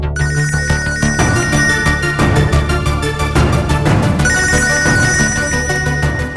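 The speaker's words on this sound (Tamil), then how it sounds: "ருக்மணி செல்போன்ல இருந்து கால் வருது." An incoming call on a mobile phone plays its ringtone loud and close, a looping electronic tune with a driving beat that carries on unbroken, with no voices heard.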